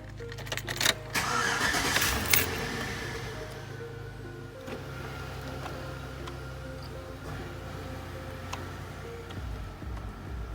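The A/C blower of a 2005 Chevrolet Suburban runs with a steady, moderate whoosh of airflow and a low hum, with a few ticks and clicks near the start before it settles into an even drone.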